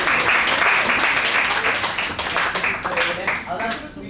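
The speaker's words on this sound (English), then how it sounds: "give him a round of applause," An audience at a live event claps and cheers with dense applause that is loudest at first and then thins, with voices talking over it.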